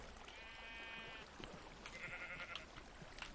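Sheep bleat in a Minecraft sheep wool farm, two short wavering bleats over a steady hiss of running water, fairly faint and with no one talking.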